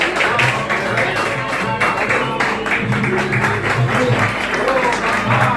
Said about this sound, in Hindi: ताली से बजा दीजिए भाई।